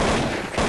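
A sharp, loud sniper rifle shot in Counter-Strike 1.6, a single heavy blast with a booming tail in a dense, noisy game mix.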